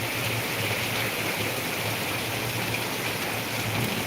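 Heavy rain pouring down during a monsoon red alert in Ahilyanagar, a dense, loud, steady hiss of drops striking surfaces, unbroken from start to finish, with no speech.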